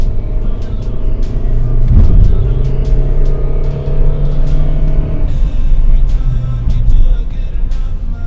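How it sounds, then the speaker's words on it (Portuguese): A Citroën Aircross accelerates uphill in second gear, the engine note climbing and surging under a rough road rumble with a bump and some cabin rattles, close and fairly loud. "Agora eu tô aqui no morro, vou dar uma aceleradinha de segunda para vocês sentirem."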